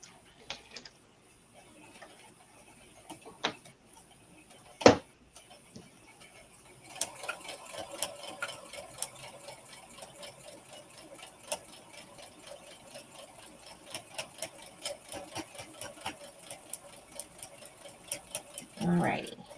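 A sewing machine stitches a fabric coaster, its fast steady ticking running under a soft background hum after a few scattered clicks and a sharp knock, ending in a louder brief whir.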